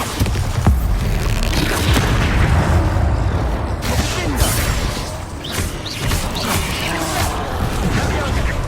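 A Bombarda spell explodes during Hogwarts Legacy combat: dense, loud booming blasts and crashing impacts over several seconds, mixed with a voice.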